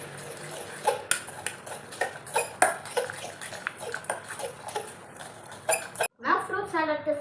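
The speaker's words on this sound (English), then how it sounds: "And mix it well." Fruit salad stirred with a spoon in a bowl after a spoonful of brown sugar goes in, the spoon clinking rhythmically against the bowl's side in a quick series of close taps, followed by a brief voice.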